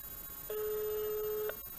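Telephone ringing over a speakerphone: a single steady electronic tone lasting about a second against a faint background, fairly quiet.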